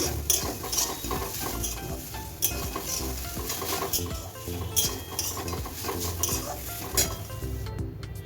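Grated coconut warmed and stirred in a kadai on a gas stove, with a spatula scraping steadily against the metal pan and a soft sizzle running beneath, the scrapes repeating in an uneven rhythm throughout.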